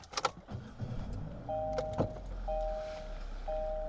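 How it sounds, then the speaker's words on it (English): A Kia car starting up in cold weather, with clunks and door or key handling early on, then a steady low engine rumble joined by repeating electronic warning chimes. "So I'm gonna turn my car on."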